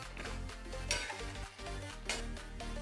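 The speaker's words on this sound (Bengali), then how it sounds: "পোস্ত বাটা গ্রেভির সাথে ভালোভাবে মিশিয়ে নেব।" Poppy seed paste is stirred into a simmering fish curry gravy, with soft scraping spoon strokes and a gentle sizzling bubble close by, and no talking.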